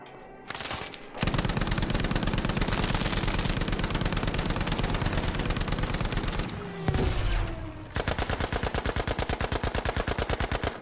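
Anti-aircraft flak gun firing in the video game Battlefield V, a loud, rapid, rhythmic stream of heavy shots that runs for several seconds, stops briefly, then resumes.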